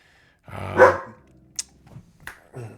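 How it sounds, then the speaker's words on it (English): A dog barks once loudly nearby, followed by a couple of softer yips and whines, with no talking over it. "that is my dog"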